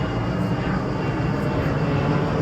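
A steady, broad engine roar from an airplane passing over a boat outing near Trogir fills the air with a constant rumbling drone, without clear speech.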